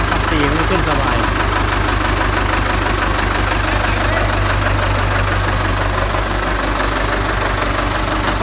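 A Ford 6610 tractor engine runs steadily and loudly nearby, a constant throbbing diesel rumble with mechanical knocking, while someone talks over it at points.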